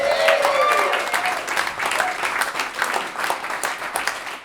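A comedy club audience in Maine bursts into loud applause and cheering for a comedian, dense clapping that holds steady for several seconds while a voice talks over the start.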